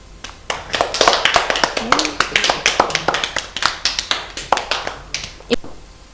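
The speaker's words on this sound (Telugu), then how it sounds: "okay claps" Children clap in a steady, rhythmic series of sharp claps close by, with a brief voice partway through.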